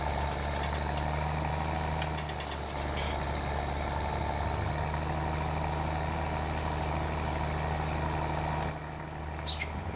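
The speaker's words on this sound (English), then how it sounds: "this tractor is definitely a little bit louder" A tractor engine in a farming video game runs steadily with a deep, continuous droning hum and a constant idle-like rumble, loud and close, with no voices.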